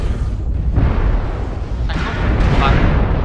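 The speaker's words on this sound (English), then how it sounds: "I just got hit by missiles that never... I wasn't warned about." Missile impacts exploding in the mech combat game MechWarrior Online, dense rumbling blasts and booms in quick succession, loud and close, with a voice speaking over part of it.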